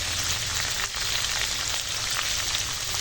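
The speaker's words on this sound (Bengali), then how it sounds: "এখন দিয়ে দেব পাঁচ ফোড়ন" Panch phoron spices sizzling in hot oil with vegetables in a pan: a dense, steady frying hiss, close and continuous throughout.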